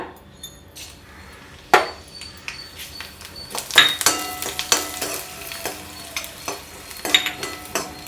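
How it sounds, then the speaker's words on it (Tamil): Dried red chillies and spices frying in ghee in a kadai for sukku kuzhambu, a soft sizzle with sharp stirring scrapes and clinks of a spoon against the pan, close and unaccompanied by speech. "நெய் விட்டுண்டு இதெல்லாம் வறுத்து எடுத்துக்கலாம்."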